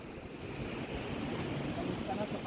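Wind gusts blow across the microphone by open water, with a low rumbling wash of surf underneath.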